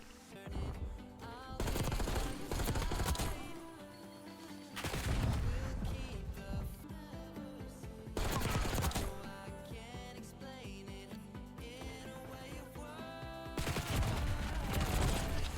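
Video game gunfire crackles in rapid automatic bursts, several loud volleys separated by short gaps, close and dense with layered shots.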